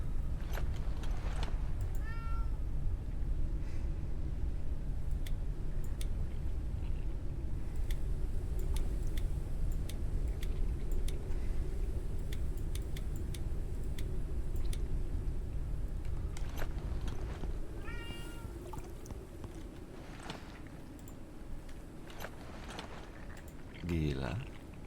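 A chatty pet cat lying on the floor meows repeatedly, with a few short meows spread across a long stretch of steady low hum, faint ticking and clicking, and a louder meow near the end.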